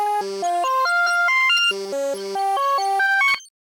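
Synth beat in a hard trap style, run through the Portal plugin for glitchy textures: a stepping melodic line of bright tones moves up and down in quick notes, loud and steady, then stops abruptly near the end.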